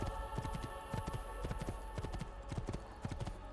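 Horse hooves clip-clopping in Assassin's Creed 2, a quick steady rhythm of close, distinct hoof strikes continuing throughout at a moderate level.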